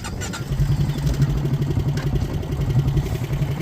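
A Honda quad ATV engine runs nearby with a steady, loud, pulsing low rumble and a light mechanical clatter throughout.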